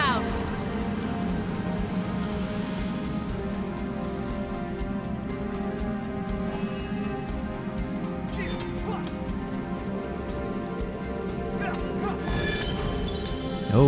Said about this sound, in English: Water rain down.